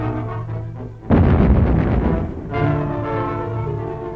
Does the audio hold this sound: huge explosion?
yes